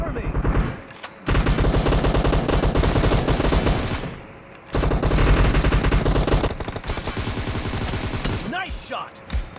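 Gunfire in the mobile battle-royale game PUBG Mobile, with long sustained bursts of rapid automatic shots broken by two brief pauses, loud and dense, while voices talk under the shooting.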